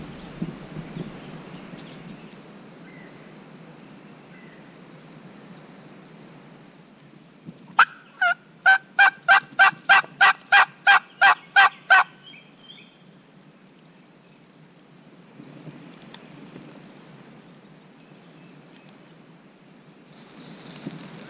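A wild turkey gobbles once at a distance on a ridge on public land, a rapid string of about a dozen sharp pulses rising out of quiet outdoor ambience, with light rain patter.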